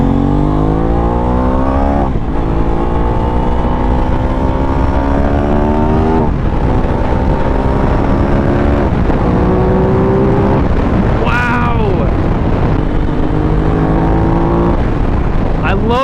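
An Aprilia RS 660 motorcycle accelerates on the road, its engine revving up in repeated rising sweeps with shifts between gears, loud and close, with wind noise throughout and a rider talking.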